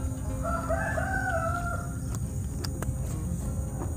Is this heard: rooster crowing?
yes